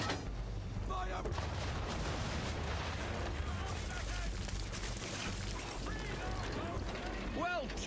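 Ship cannons in Assassin's Creed III fire round shot in a broadside, a heavy rumbling barrage of booms rolling under continuous battle noise, with voices and shouts mixed in throughout.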